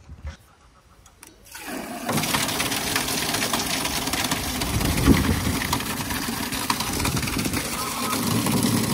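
A small motorcycle engine idles and putters steadily at close range after a quieter opening, with a rough mechanical drone throughout.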